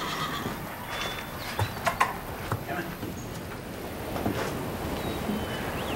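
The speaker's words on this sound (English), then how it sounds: "I know this horse." A horse whinnies and snorts amid a few scattered hoof clops over a steady outdoor wind-like background, moderately close, with no voices.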